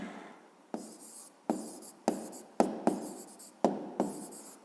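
A pen writing on paper while working a fifth-grade maths exercise, a run of quick scratchy strokes in short repeated bursts with brief pauses between, close and fairly quiet.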